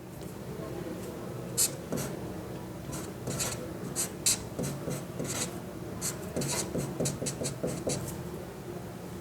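Pen or marker scratching across paper in short bursts, rubbing and rasping strokes with brief gaps, close by under a continuous low background and occasional talk.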